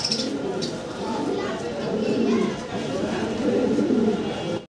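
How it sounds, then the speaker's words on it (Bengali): A pair of black magpie pouter pigeons coo in low, rolling bursts close by, with someone talking over them most of the time. "ভাইয়ের কাছে একজোড়া ব্ল্যাক ম্যাকপাই পটার আছে"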